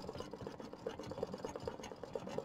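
A home sewing machine runs steadily at low volume while a gnome-themed quilt block is pieced, a faint even mechanical whir with a soft repeating tick, no voices over it.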